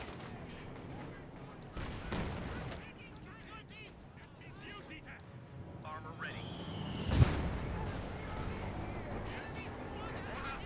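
Tank gunfire in the video game Company of Heroes 2, including a Tiger's 88mm gun, booms and crackles amid battlefield clatter, heard faintly beneath steady energetic commentary from a caster.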